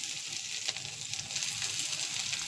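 Onions frying in oil give a steady, dense sizzle with faint crackles, close and moderately loud throughout, with no one speaking.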